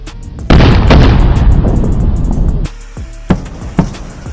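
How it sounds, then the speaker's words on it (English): A sonic boom from returning rocket boosters lands as a sudden loud, broad blast that rumbles on for about two seconds, followed by two sharper, quieter booms close together. "And when this happens, it creates sonic booms."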